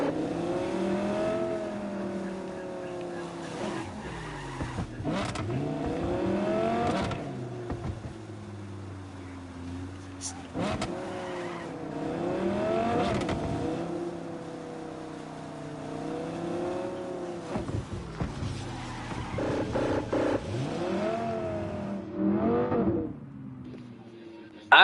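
A car driven in Cyberpunk 2077, its engine rising and falling through repeated revs and accelerations, moderately loud and continuous, with a voice talking at times over it.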